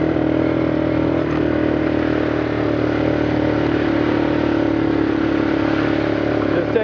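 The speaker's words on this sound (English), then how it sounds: "let's see how long the bike stays running" A four-wheeler ATV engine hums and rumbles continuously at moderate volume, a small motor running evenly without revving.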